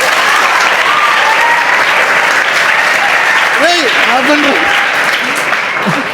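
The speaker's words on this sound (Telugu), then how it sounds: "వదిలితే రాత్రి వరకు కొట్టేటట్టున్నారు కదా చప్పట్లు" Students at a school event in Hyderabad break into sustained, loud applause that continues unbroken, with a few voices rising briefly over the clapping.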